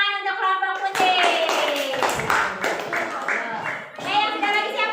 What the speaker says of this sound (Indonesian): Oke, tepuk tangan untuk kelompok putih.